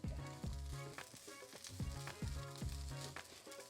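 Ivy gourd stir-fries in a little oil, crackling and sizzling softly while repeated stirring knocks and scrapes in the pan fall in a steady rhythm, fairly quiet with no talk.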